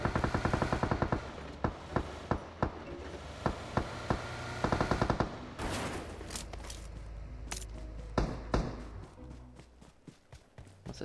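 Rapid bursts of automatic gunfire in PUBG Mobile, with fast rhythmic volleys early on, then scattered louder single shots and footsteps over a busy game background.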